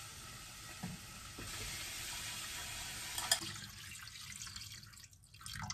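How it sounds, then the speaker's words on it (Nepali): Water being poured into a cooking pot, a steady splashing pour over a soft sizzle that stops partway, followed by faint dripping and quiet kitchen sounds. "यतिको पानी हाल्ने, मजाले पाक्न दिनुपर्छ।"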